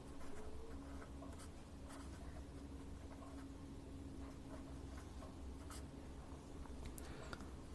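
Quiet hand writing on paper, a faint steady scratching of a pen or pencil close by, with no talk.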